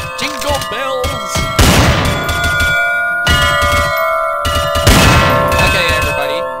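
Bells ringing in Counter-Strike: Source multiplayer, with repeated loud clanging bursts and sustained ringing tones layered over each other in a chaotic, random pattern.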